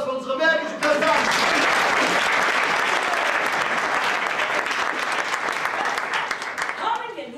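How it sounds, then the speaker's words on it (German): Cabaret audience breaking into loud, sustained applause, a dense, close wall of clapping that swells in quickly after a brief moment of voice and fades near the end. "Applaus für unsere märkische Präsidentin!"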